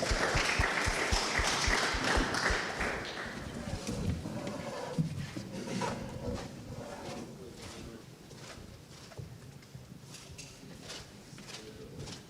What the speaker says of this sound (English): Let's have a round of applause for the Panthers of Pasquotank County